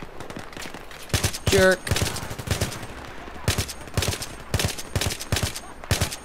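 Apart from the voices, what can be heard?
gunfire from the player's gun in the video game Battlefield 3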